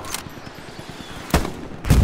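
Several Mosin sniper rifle shots ring out in the Hell Let Loose video game: a faint crack near the start, then two louder, sharper reports about half a second apart near the end, separated by low ambient battlefield rumble.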